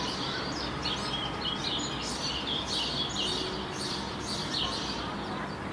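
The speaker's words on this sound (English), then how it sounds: "There's a lot of birds, there's a lot of chirping" Many small birds chirp and tweet continuously in a quiet park, with steady, bright calls overlapping over a soft outdoor background.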